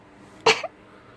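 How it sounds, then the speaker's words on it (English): A pony coughs once in the dark, a single short, sharp cough with a small second catch right after, close and clear against near silence. "some pony coughed."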